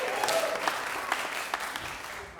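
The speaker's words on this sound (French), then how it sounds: "Public, on l'applaudit." A television studio audience applauds a guest on a French-language talk show, with steady clapping at moderate loudness across the whole stretch.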